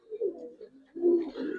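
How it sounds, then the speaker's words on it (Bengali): A Giribaz pigeon coos softly nearby in a short, quiet run of low, rolling notes, alone. "আজকে একটা খুব ভালো একটা কবুতর দেখাইতেছি ভাই"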